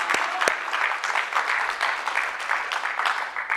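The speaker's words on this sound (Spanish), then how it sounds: "Démosle palmas al Señor por todo esto." A church congregation claps together in a dense, lively burst of applause, close and continuous, with a few sharper individual claps standing out at the start.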